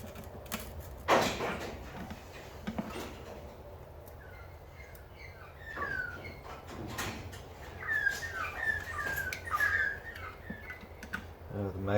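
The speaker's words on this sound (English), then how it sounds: "The magpies have gone crazy outside, it sounds like." Magpies call outside with scattered bursts of chirps and warbling, faint to moderate, mixed with clattering and handling noise close by indoors.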